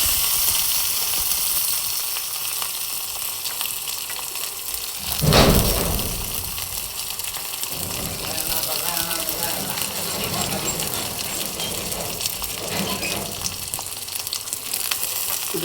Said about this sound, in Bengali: রসুনটা ভালো করে ভেজে নিব।